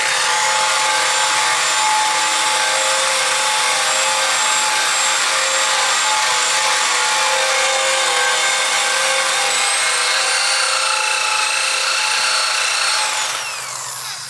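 Loud, steady whine of a power tool with a stripping disc grinding paint off the front bumper of a 1977 Camaro Z28, running continuously at close range and easing slightly at the very end.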